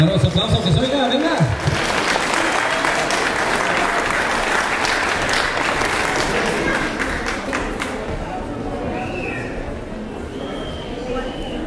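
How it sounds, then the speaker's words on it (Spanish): A crowd at a quinceañera celebration breaks into loud, sustained applause that slowly fades over about ten seconds, with a voice briefly heard at the start. "Claro, un aplauso que se oiga, venga."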